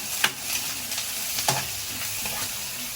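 Garlic and onion sautéing in a pan, a soft continuous sizzle broken by a few sharp spatula scrapes and taps, close and quiet with no talking.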